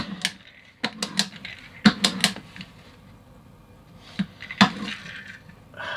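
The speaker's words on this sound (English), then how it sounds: "Maybe this motor's broken. I'm hearing it clicking." A small metal toy racing car with an inertia drive and a push-down helmet gives sharp, irregular clicks and rattles in short bursts and single snaps, close up, with quiet gaps between them.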